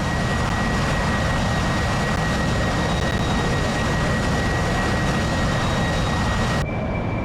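Harrier jet engine in the DCS World flight game, a loud steady broadband roar with a thin constant whine held throughout, cutting off abruptly near the end.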